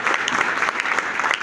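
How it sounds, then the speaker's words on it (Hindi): Audience clapping at the closing ceremony of a district-level volleyball tournament at a school, a dense, loud, sustained burst of applause from a nearby crowd filling the whole moment. "एक बार ताली बजा दो भाई"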